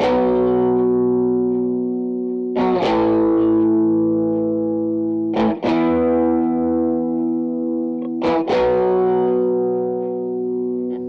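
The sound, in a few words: electric guitar through tube amp with Greenback speaker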